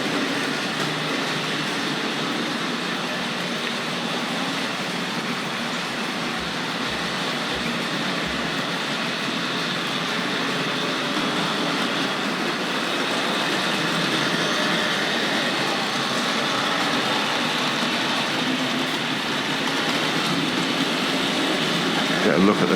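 Hornby model trains run on a layout at a railway collectors' association show in the Locomotion museum at Shildon, giving a steady, even rolling whir under a constant hall murmur.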